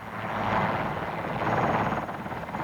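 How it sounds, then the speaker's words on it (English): Steady broadband rotor and engine drone of RAF military helicopters arriving near the Kosovo border in 1999, loud and continuous throughout with no talk. "More RAF helicopters arrived today"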